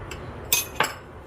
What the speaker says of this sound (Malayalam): ഒരു സ്പൂണും കൊണ്ട് ഇങ്ങനെ കോരി ഇട്ടിട്ട് വേണം ഇളക്കാനായിട്ട്.